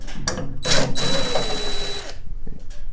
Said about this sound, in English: I'm going to be removing the screws as so